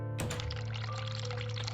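Cold water runs from a sink tap in a video game, a steady pouring rush that starts abruptly and continues evenly, close and fairly loud, with no talking.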